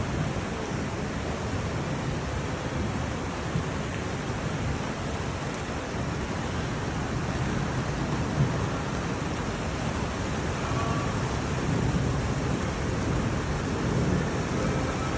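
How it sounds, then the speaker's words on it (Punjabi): Heavy rain falls in a steady, dense roar near Paonta Sahib, with no distinct thunderclap standing out and no voices over the wash. "ਬਾਰਿਸ਼ ਬਹੁਤ ਜ਼ਿਆਦਾ ਹੋਣ ਰਹੀ ਹੈ"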